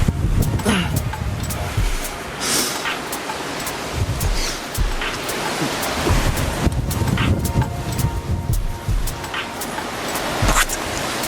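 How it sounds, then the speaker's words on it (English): Wind gusts across an outdoor bouldering site at El Cogul in Spain, a loud, continuous buffeting roar against the microphone that rises and falls throughout. "the wind's been blowing around my pads"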